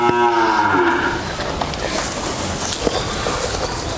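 Holstein Friesian heifers at a dairy farm moo loudly and close at the start, a long low call followed by farmyard rustling and footsteps.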